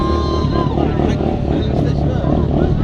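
Motorbikes rev loudly at a stunt show by the Matrix group, with engines droning continuously close by under crowd noise and people talking.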